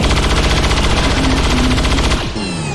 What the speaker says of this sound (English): and then fire your gun at this guy